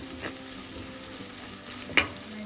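Carrot stir-fry with salt being mixed in a pan, a faint continuous sizzle with soft stirring scrapes and one sharp utensil click against the pan, nothing spoken.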